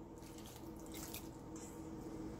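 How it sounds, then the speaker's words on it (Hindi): Water trickles softly into mixed wheat flour in a bowl as dough is started for stuffed egg paratha, a faint, steady pour with no voices. "अब इसमें हम पानी दे करके आटे का डो"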